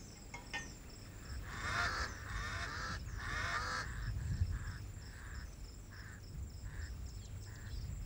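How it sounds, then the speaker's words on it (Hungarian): Crows caw several times in a loose series over a steady background of chirping insects, moderately distant and fairly quiet. "Az ünnepi hangulatot a varjak hangoskodása zavarta meg"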